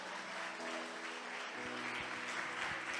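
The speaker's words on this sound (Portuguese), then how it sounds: "Aleluia, aplauda ao Senhor mais forte." A church congregation claps together in rhythmic, moderately loud applause, with a sung or spoken voice and low instrumental tones underneath.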